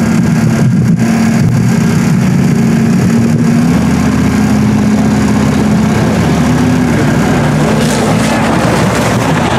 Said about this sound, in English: Here comes the ATVs down the track again.